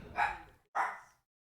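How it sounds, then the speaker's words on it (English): Two short dog barks, a brief pause between them, fairly close and clear with nothing else around. "the dog is barking a little bit"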